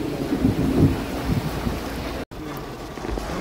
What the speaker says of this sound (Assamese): এয়া চাওক না মেঘালয়ৰ বৰষুণ